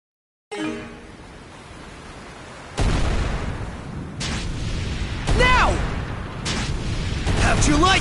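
Cannon fire in the Ys video game: a heavy boom enters about three seconds in, followed by repeated bursts and blasts over a dense noisy game soundtrack, with chirping swept tones, all loud and continuous.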